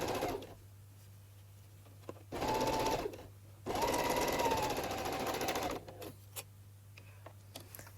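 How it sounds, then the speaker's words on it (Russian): A sewing machine stitches the seam on a fabric Christmas stocking, running in two steady bursts of about a second and two seconds, with quiet pauses between them and a low steady hum underneath. "строчим по носку и отворачиваем шов в сторону носка"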